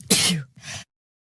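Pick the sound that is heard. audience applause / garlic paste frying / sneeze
sneeze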